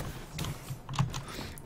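Quick, light clicks of a computer keyboard being typed on during a Call of Duty Black Ops III session on PC, a short close burst of keystrokes.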